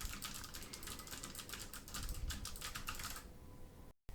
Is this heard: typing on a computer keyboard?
yes